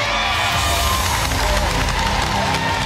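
An audience of around 250 at a LEGO building competition claps and cheers for the builders, a dense, steady roar of applause and shouts that fills the space throughout.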